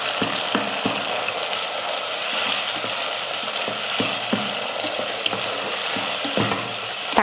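Three tomatoes go into a pan of sautéed onions for a brinjal tamarind curry, frying with a steady sizzle broken by repeated scraping clicks of a spoon stirring them.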